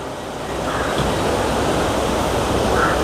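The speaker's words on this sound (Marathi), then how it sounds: "हे इथून पाणी खाली चाललंय" Water rushing downhill in a stream on a hill trek to Raireshwar, a dense, steady roar of flowing water with wind noise, close and loud throughout.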